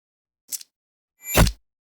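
A Mortal Kombat 11 spear hit built from two knives scraped together and wet, gory vegetable sounds: a short bright metallic scrape, then a louder, fuller swelling impact with a heavy low end.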